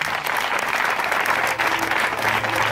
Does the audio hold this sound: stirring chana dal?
no